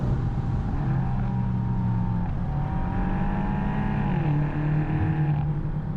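A BMW M8 Competition's twin-turbocharged V8 drones steadily from inside the car, with smooth rising and falling pitch through gear changes, loud and continuous with no voices.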